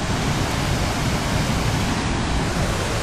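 Fast floodwater rushing down a swollen Ohio creek, a steady loud broadband roar with deep low churning, close and continuous with no voices.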